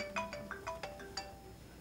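A mobile phone ringtone chirps in a quick series of bright, repeated tones, fairly faint and heard alone in a quiet room.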